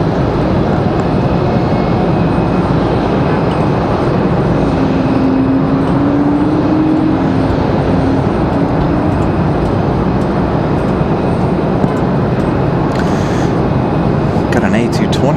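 An Airbus A220 airliner at Raleigh-Durham International Airport gives a steady, loud jet roar that holds through the whole stretch, a broad continuous rumble with a faint rising engine tone partway through.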